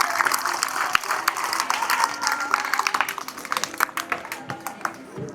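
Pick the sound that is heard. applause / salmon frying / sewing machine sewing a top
applause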